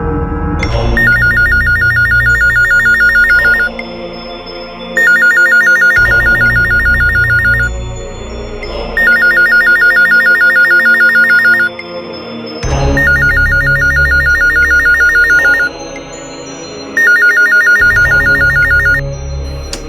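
A telephone rings in repeated bursts with short pauses between, loud and close, over a steady electronic tone, with no talking.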